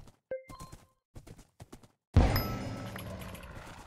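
Horse hooves clip-clop in a Civilization video game, a sparse run of short, quiet hoof knocks followed by a sudden louder burst of clattering game sound effects.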